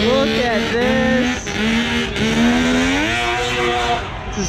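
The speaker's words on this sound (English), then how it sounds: "It's a snowmobile motor on a go-kart." A go-kart fitted with a snowmobile motor runs at a truck meet, its high, buzzing engine note rising and falling as it revs, loud and steady throughout.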